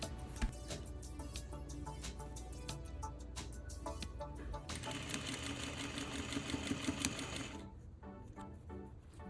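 A sewing machine stitches the waistband of a ballerina skirt in quick rhythmic needle runs, pausing and restarting, close and quiet, with a denser burst of rapid stitching midway before slowing.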